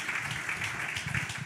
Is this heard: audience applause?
yes